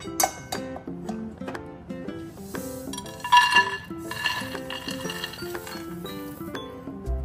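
Hot roasted thandai ingredients tipped from a pan onto a plate give soft metallic clinks and scrapes of utensils, quiet and close, with tonal background music underneath.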